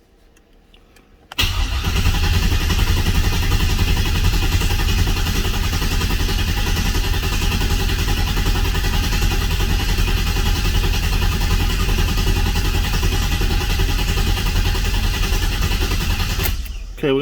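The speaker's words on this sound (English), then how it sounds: "we're going to crank for oil pressure again" An Oldsmobile 442 V8 is cranked over to build oil pressure without firing, a loud steady whirring churn that runs for about fifteen seconds and then stops abruptly.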